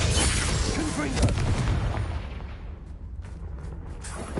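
A fiery Confringo blast spell in Hogwarts Legacy bursts loudly with a dense roaring explosion that slowly fades into crackling, with a spoken voice over the top.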